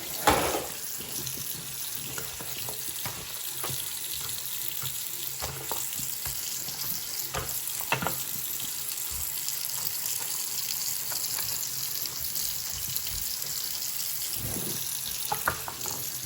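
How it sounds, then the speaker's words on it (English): Water runs steadily while cleaning products are rinsed away during household cleaning, a continuous close splashing hiss with a few light knocks and no talk. "Put water all across. So that I can do a good rinsing of all of the cleaning stuff."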